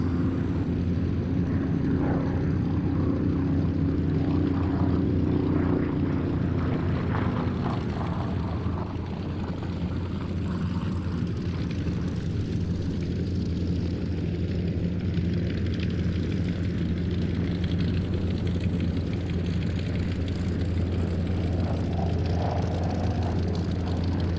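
A SAAB B17 propeller aircraft flies at the Duxford air show, its piston engine droning loud and continuous with a gradually shifting pitch as it passes, accompanied by wind rumble.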